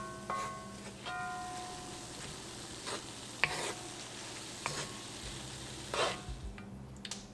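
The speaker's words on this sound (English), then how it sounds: "we'll cook the onions down for about 5 minutes until they soften up real nice" Chopped onions softening in a pan for an Indian matar paneer, giving a quiet steady sizzle with occasional soft stirring scrapes and clinks.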